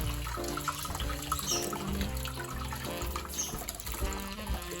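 Running water splashing over a charcoal plant pot as it is rinsed and lightly scrubbed, a steady close gush from a tap with soft shifting splatter and faint background music.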